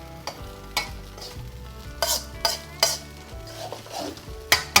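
Fried rice is stir-fried in a pan, a low steady sizzle under repeated sharp scrapes and clacks of a spatula against the metal, coming in irregular strokes close by.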